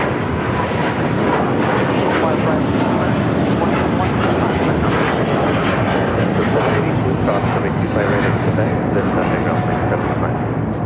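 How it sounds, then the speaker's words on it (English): A Cathay Pacific Boeing 777-300ER taking off at LAX, bound for Hong Kong, its engines giving a loud, continuous roar that holds steady throughout, with a voice talking beneath it. "This is Cathay Pacific 885 taking off to Hong Kong on the 777-300ER"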